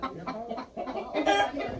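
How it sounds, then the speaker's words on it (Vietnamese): A chicken sitting in a bed inside a house clucks in short, close, soft bursts that run together over a couple of seconds. "Úi ôi, sao có con gà đây?"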